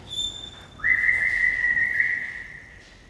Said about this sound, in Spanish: Alguien que silba, güey.